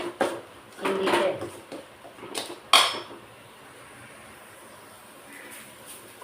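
A metal spoon stirring green chilli rasam in a pot, producing a few scraping strokes and a sharp clink, then fading to near quiet room tone.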